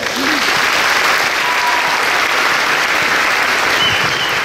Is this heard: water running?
no